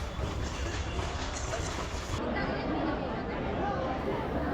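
Rumbling train arriving at Haridwar station at night, rolling rail clatter mixed with crowd chatter and voices nearby, continuous and moderately quiet throughout.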